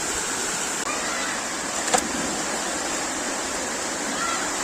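Water splashed by hand at a stream swimming spot in the countryside, a steady close rushing and churning wash with one brief sharper splash midway.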